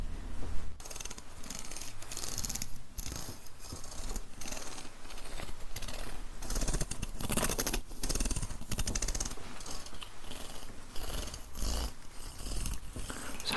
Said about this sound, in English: this is a very large toothed comb